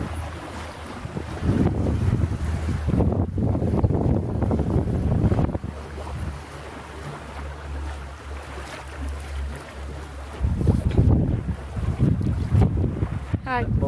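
Wind gusting into the sails of a MacGregor sailboat under way, a steady loud rush and flutter with water noise and a couple of stronger surges, no talking.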